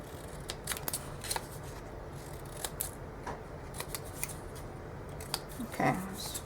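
Small scissors snip paper for a mini book charm, a series of quick crisp cuts in irregular rhythm, close and fairly quiet, with a brief rustle near the end.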